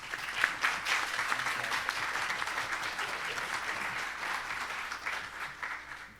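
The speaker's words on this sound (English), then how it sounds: "give a round of applause to our panel" An audience applauds a panel at a Cyber Safe 2025 event, steady clapping from a sizable crowd lasting several seconds at moderate loudness, tapering slightly toward the end.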